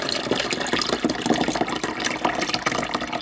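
Water pours steadily into the reservoir of a solar-powered portable ice maker, a continuous close splashing fill with no talking.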